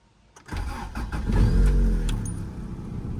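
A 1986 Honda Prelude Si engine cranks briefly, catches and revs up loud and close, then settles into a steady idle.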